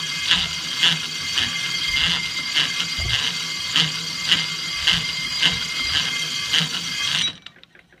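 A drill press with an adjustable pulley system spins a wire brush, giving a steady mechanical whir with a regular pulsing beat about twice a second, close and fairly loud, before it cuts off abruptly near the end.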